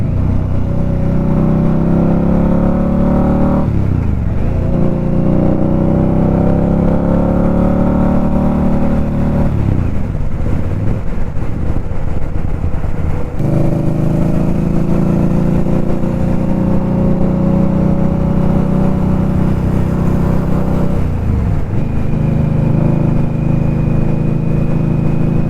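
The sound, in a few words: 1100cc superbike engine revving while riding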